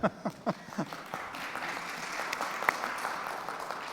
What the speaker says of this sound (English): You better applaud that.